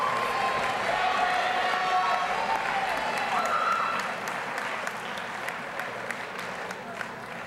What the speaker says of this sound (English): Let's have a round of applause for the 11th graders.